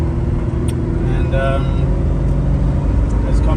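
A 1975 Aston Martin V8 Coupe cruising back roads around town, its engine a steady low drone heard from inside the cabin, with a brief voice over it.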